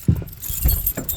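A set of keys jangles as it is handed over at a campground, a few short metallic clinks and rattles, close and fairly quiet, with no talking.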